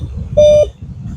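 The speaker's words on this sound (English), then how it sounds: "I just put it down to the ground and it's already beeping" A metal detector held down to the ground gives one loud, steady electronic beep lasting about a quarter second, over a low rumbling background.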